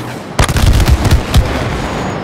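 Explosions in the video game It Takes Two, a rapid cluster of loud booming blasts that starts abruptly and runs for about a second, then trails off into a sustained rumbling wash.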